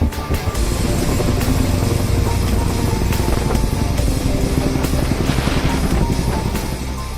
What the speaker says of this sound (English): The downdraft from the Chinook helicopter